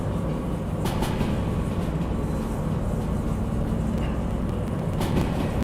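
A train from the DV Sim video game runs at night with a continuous heavy rolling rumble and metallic wheel noise, steady and close throughout, with a few faint higher clanks.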